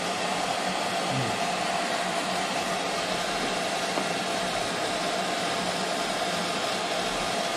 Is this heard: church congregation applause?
no